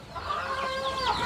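Backyard chickens cluck and chatter steadily in the background, a continuous, moderately loud flock murmur with occasional higher calls and no talk.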